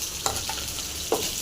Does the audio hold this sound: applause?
no